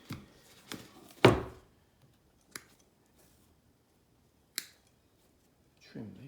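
Scissors snip the loose threads of a hand-sewn law book text block. A few sharp, close cuts come irregularly, one louder than the rest, with quiet gaps between them.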